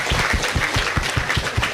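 An audience at an annual-day celebration with a grand master claps in a steady run of distinct, fairly close hand claps, with no one speaking.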